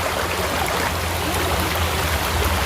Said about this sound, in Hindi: बारिश बहुत ज़्यादा बारिश देखो पीछे तरफ से कितना पानी ज़्यादा जा रहा है